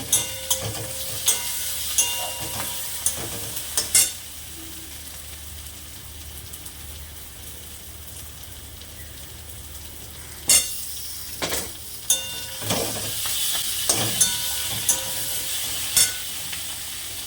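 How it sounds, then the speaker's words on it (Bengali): Garlic frying in a pan with a steady soft sizzle and occasional sharp clinks of a utensil stirring, louder bursts in places, no talking. "রসুনটা ভাজা হয়ে গেছে"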